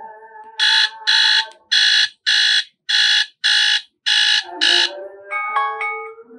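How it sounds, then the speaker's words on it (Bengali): Alarm tone from a Walton Walpad 8G tablet: eight loud, evenly spaced electronic beeps, then a softer chime-like tone as it is switched off. "আপনি এখানে অ্যালার্ম সেট করতে পারবেন, এটার সাউন্ড অনেক জোরালো"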